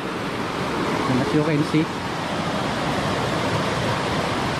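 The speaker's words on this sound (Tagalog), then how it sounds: "Nandito tayo ngayon sa Sitio Racoranom at ito po yung ilog dito sa amin." Steady broadband rush of a river flowing at Sitio Racoranom, continuous and fairly close, with someone briefly speaking over the water partway through.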